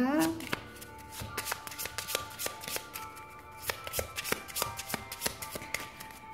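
Tarot cards shuffled by hand in a steady series of crisp riffling snaps and slaps, close and clear, with a faint voice talking underneath in places.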